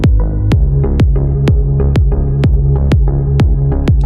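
A Serum synth bass in FL Studio, its filter cutoff swept by an LFO, throbs loud and alone in a steady pulse of about two beats per second, each beat opening bright then closing dark.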